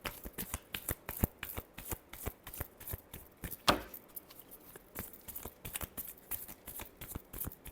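Tarot cards being shuffled in a steady run of crisp riffling flicks, close and fairly quiet, with one sharper snap of the deck midway and no talk.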